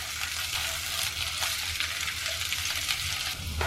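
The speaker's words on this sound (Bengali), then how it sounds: "পেঁয়াজ আর করলাটাকে আমি ভেজে নেব 3-4 মিনিটের মতো।" Sliced onion and bitter gourd frying in a pan with a dense, steady sizzle and gentle stirring strokes, close and continuous.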